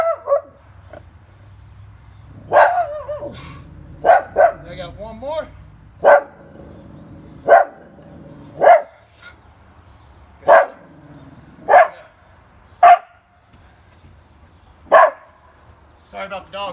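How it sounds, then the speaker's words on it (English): A dog barks repeatedly in short, sharp bursts at irregular intervals, fairly close, with a brief spoken phrase in between. "Sorry about the dog."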